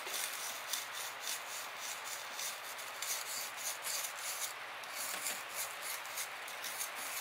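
Steady abrasive rubbing and grinding as a hole is worked into black pumice stone, a continuous scratchy rasp at close range with no speech.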